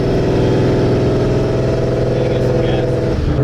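A Paxton-supercharged Ford Mustang drives at a steady pace, its engine a loud, constant close-up drone with a rich low rumble and no clear revving.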